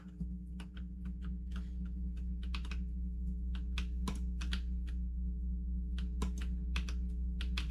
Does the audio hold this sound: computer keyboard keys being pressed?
yes